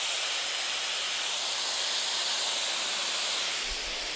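A Dyson Airwrap hair styler blowing air gives a loud, continuous, even rushing hiss with a thin high whine on top, steady for the whole stretch and with no voices.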